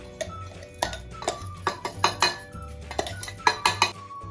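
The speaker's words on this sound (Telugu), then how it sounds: "అందులో వేసేసి మిక్స్ చేస్తాను ఒకసారి" Ground seasoning being mixed into cooked gongura leaves on a plate, a close series of irregular clinks and scrapes as a spoon knocks against the plate, with no voices.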